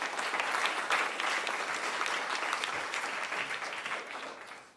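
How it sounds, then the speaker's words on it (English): An audience at a youth awards event claps in a steady, fairly loud round of applause that gradually fades toward the end. "A round of applause again for Brianna."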